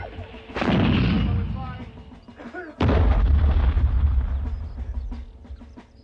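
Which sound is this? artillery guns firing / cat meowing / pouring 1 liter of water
artillery guns firing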